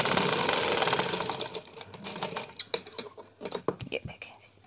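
Sewing machine stitching a folded fabric plate for a garment, a fast steady whirring rattle close by for over a second, then stopping, followed by scattered clicks and handling noises.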